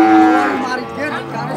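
Female Pegon calf at a cattle market letting out one drawn-out moo, close and clear, falling in pitch and fading over about a second and a half.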